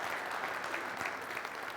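An audience at a Wi-Fi conference keynote breaks into steady, even applause, a dense wash of clapping heard from within the hall with no talking over it.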